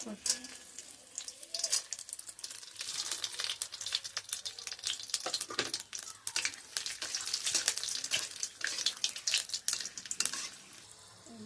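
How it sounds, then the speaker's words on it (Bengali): Whole spices (garam masala, cardamom, cloves, cinnamon, cumin, dried chilli and bay leaf) crackle and sizzle in hot mustard oil, with sharp spluttering pops and occasional stirring clinks close up. "গরম মশলা, এলাচ, লবঙ্গ, দারচিনি, জিরে, শুকনো লঙ্কা, তেজপাতা এসব দিয়ে দিচ্ছি"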